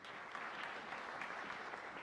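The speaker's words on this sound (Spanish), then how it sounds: "Un aplauso para él, por favor." Steady applause from an audience at a philosophy of science panel fills the whole stretch, dense and even clapping with no pauses.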